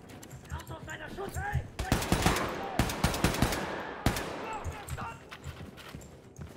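Sniper rifle shots in the first-person shooter Wolfenstein II ring out as three loud, sharp cracks spaced about a second apart, each with a brief ringing tail, while someone talks over the game audio throughout.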